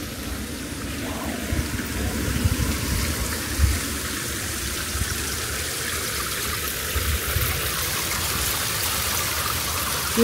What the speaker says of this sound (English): it has a small waterfall at the back of the pool area